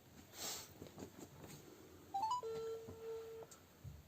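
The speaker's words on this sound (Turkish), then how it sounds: "şu an ikinci olarak Fatma'yı arıyorum." A phone call is placed: after a short rising tone, a steady electronic ringback tone sounds once for about a second, faint over quiet room noise.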